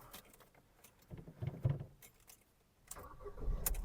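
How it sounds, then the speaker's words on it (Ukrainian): Ford Fusion car keys jangle in short metallic bursts, a few separate shakes and clinks close by, fairly quiet with brief gaps between them. "два ключа з автомобілем"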